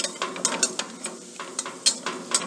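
A spoon scrapes and stirs flour roux in a pan over low heat, giving a series of quick, close scraping strokes over a faint sizzle, with no voices.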